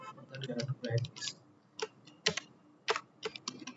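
Quick bursts of computer keyboard typing while entering an SQL query, clustered key clicks in short runs with pauses between them, close and fairly quiet, following a brief stretch of speech.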